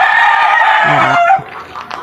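A hen clucks and squawks loudly up close in a drawn-out call, then trails off into softer scattered clucks.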